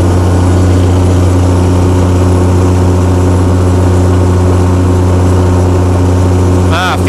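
Chrysler Slant 6 engine driving a generator under load, fitted with Holley Sniper EFI; a loud, steady low-pitched drone held throughout with strong hum, ending in a brief burst of noise.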